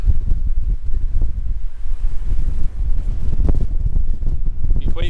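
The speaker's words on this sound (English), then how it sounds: "Be quite breezy now, quite exposed up here." Strong, steady wind buffets an exposed moorland hilltop in the Scottish Borders, a loud continuous low roar and microphone rumble with gusts swelling and easing throughout.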